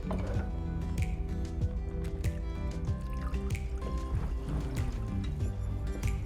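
Water is poured into a floral arrangement container, trickling and splashing steadily and close by, with no voices.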